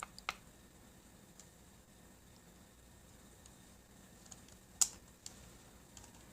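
Sparse, faint keystrokes on a computer keyboard, a few isolated clicks and taps scattered over a quiet background hum, with one sharper clack near the end.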